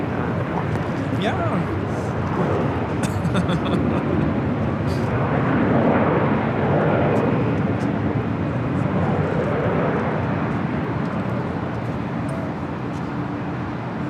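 A jet takes off from runway 24 left at LAX, its engine roar a broad sustained rumble rising and swelling over several seconds, heard from a distance as people chat nearby.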